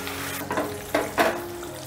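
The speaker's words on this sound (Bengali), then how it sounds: "এবারে গ্যাসের আঁচটা বাড়িয়ে নিয়ে মশলাটা ভালো করে কষে নেব।" Spice paste fries in oil over a raised gas flame, sizzling with a few short bursts as it is stirred, close and moderately loud with no voices.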